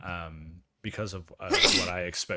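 A person sneezing once in the middle of a sports podcast, a sharp burst between stretches of someone talking.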